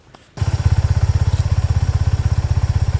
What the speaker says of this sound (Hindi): मैं आप लोगों को ना अब इस बाइक की आवाज़ सुनाता हूँ कि आवाज़ अब पहले से कैसे आ रही है